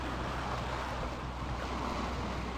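A sailboat motoring across deep blue water in the Gulf Stream, heading toward Key Biscayne, with a steady broadband rush of wind, waves and hull noise and no distinct events.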